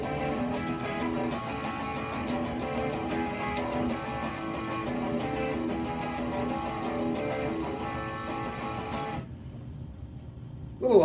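Guitar played in a distinctive style of chords, a quiet, steady rhythmic strum with chiming ringing notes lasting about nine seconds, then near silence before a brief noise at the end.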